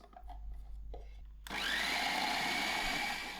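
A food processor grinding a nut chutney starts abruptly after a few quiet handling sounds, then runs as a loud, steady whirring motor until the end.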